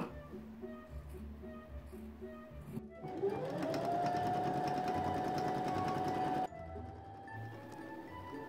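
Sewing machine stitching a wool hood onto a red wool capelet, running steadily and loudly at close range for about three seconds, its motor whine rising as it speeds up, with quieter ambient hum before and after.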